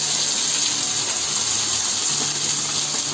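Half a cup of water is poured into a pan of cauliflower and peas curry, a loud and steady gushing rush that holds an even level throughout.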